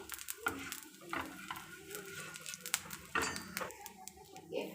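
Kambu adai, a pearl millet pancake, sizzles in oil on a dosa tawa while being flipped, giving a steady soft crackle with scraping taps of a spatula; a voice talks quietly underneath.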